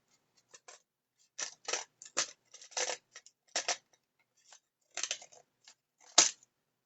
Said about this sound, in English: so I'm going to trim this down